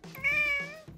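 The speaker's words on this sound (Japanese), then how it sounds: "黒猫しんちゃん" A black cat gives one drawn-out meow, close and fairly soft, rising and falling in pitch over about a second, heard alone in a quiet room.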